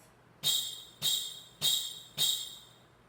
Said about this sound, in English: Sleigh Bells.